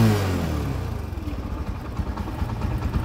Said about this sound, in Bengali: ইঞ্জিন সাউন্ড অসাধারণ